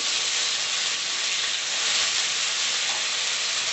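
Ingredients sauté in a pan for an army-style chicken gravy, giving a constant dense sizzle and hiss that stays even and close throughout, with no talking.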